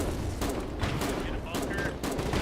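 Video-game gunfire aimed at a beach and its bunkers, a run of broadband shots spread across the clip with a steady loud bed of battle noise beneath.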